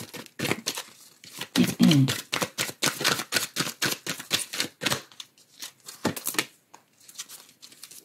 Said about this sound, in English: always feel free to fast forward through the shuffling if you so desire